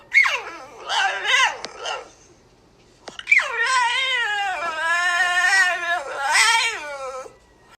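A French bulldog's drawn-out, whining, yowling vocalization, two long wavering howl-like cries up close with a brief pause between them.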